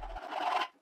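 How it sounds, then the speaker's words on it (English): A metal file rasping across the cut end of a threaded rod, heard as a single short, close scraping stroke with no talking. "I file it"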